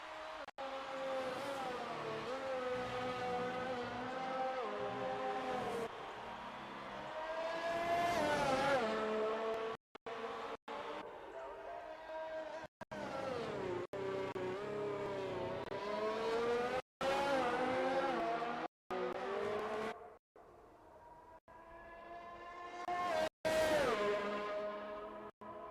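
Formula 1 cars from the F1 2019 racing game on their out-laps, with high engines whining up and down through the gears, revving and passing one after another with brief cuts between, loud and close.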